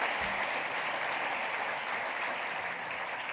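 A gala audience applauds as co-chairs stand to be recognized, an even wash of clapping from many hands that holds steady and fades slightly toward the end.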